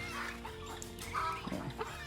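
Muscovy (Barbary) ducks and ducklings on a Thai farm, giving soft honks and low clucking calls over steady farmyard background noise, with a slightly louder burst near the middle.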